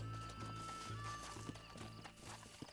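Horse hooves clip-clop at a steady gait in the video game Red Dead Redemption, a rhythmic series of close, moderately loud hoof thuds over a constant low game soundtrack hum.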